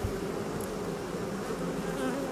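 Honeybees buzz steadily inside an open winter hive at an apiary, a dense continuous hum that stays close and even throughout with no voices.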